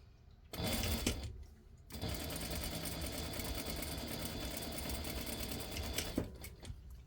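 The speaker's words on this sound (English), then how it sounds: "I'm just gonna go ahead and run a line of stitches" A sewing machine running a line of top stitching on a fabric corner bookmark: a short burst, a pause, then a steady, continuous mechanical whir close by.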